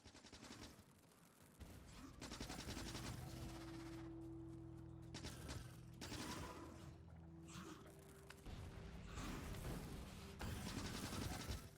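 Rapid automatic gunfire from turret defences in the video game Factorio, dense continuous bursts of shots layered over a steady game hum and engine-like drone, close and loud throughout.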